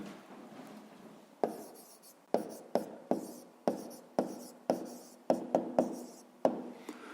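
Handwriting on paper during a fifth-grade maths exercise produces a series of short, distinct scratchy strokes at an irregular pace, each sharp at the start and fading off. The strokes are close and fairly quiet.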